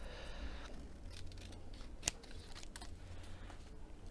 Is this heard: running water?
no